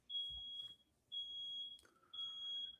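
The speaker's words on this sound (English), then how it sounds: "as our smoke detector goes off in my house for some reason" A household smoke detector sounds three long, piercing high-pitched beeps with short gaps between them, fairly faint in a quiet room.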